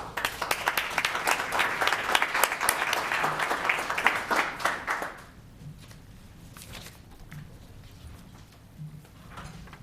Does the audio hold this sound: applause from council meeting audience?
yes